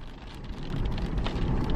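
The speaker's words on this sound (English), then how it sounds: "actually, here comes the rain." Rain begins to fall outdoors, a dense crackling patter of drops that swells in loudness over a couple of seconds, steady and close, with no voices over it.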